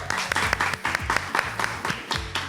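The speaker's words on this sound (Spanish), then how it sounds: "no podemos iniciar sin presentar a ese hombre maravilloso con un aplauso" Audience applause welcoming a speaker at a talk, a short burst of dense clapping with people talking over it.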